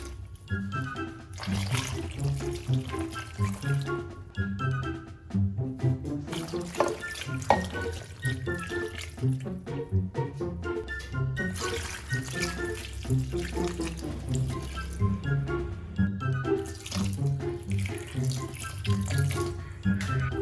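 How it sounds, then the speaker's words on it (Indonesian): Water runs steadily into a cooking pot for making Jogja-style gudeg, a continuous rushing pour lasting about twenty seconds, with tonal background music throughout. "Tambahkan air."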